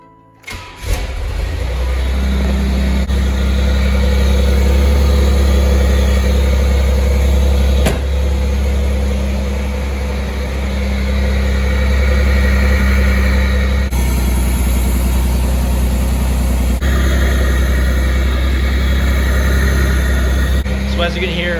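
Pontiac Fiero engine fitted with a custom air intake, starting up and then idling loud and close with a deep steady rumble and intake roar for about twenty seconds, revving slightly partway through, while a voice talks over it.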